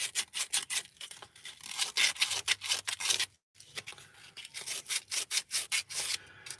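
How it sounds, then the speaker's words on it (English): Sandpaper rubs the inside of a hand-carved wooden spoon in quick, steady back-and-forth strokes with one brief pause, close and fairly soft with no talking. "First of all, I will sand the inside of the spoon."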